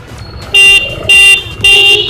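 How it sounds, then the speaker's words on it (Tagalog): Three loud car horn honks sound in a row, each lasting about a quarter second, separated by short gaps over low background noise. "yung tatlong busina na mahaba, that's may signal na ready na lahat"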